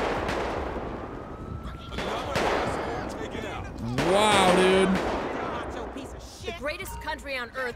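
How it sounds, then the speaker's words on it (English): Gunfire in the video game GTA 5 during a street shootout with a gang shooter: repeated sharp shots crack across the clip, some near and loud, others more distant, with a siren-like tone and other game noise in the mix. "Oh my god, shots are being fired everywhere."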